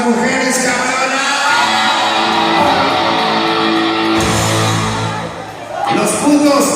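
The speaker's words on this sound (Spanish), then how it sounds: "Un grito de la banda para las mujeres cabronas" At a live sonido Condor dance in Orlando, a crowd shouts and whoops loudly in a sustained roar, with amplified talking over the noise and a brief dip before the cheering swells again.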